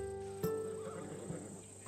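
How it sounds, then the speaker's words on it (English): A Macedonian war horse in Assassin's Creed Odyssey gives a single clear neigh partway through, with faint hoof clops and stable ambience around it and a soft thump near the end. "These are bred for battle, a true warrior's horse."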